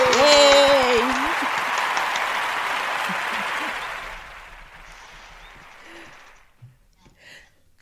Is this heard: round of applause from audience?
yes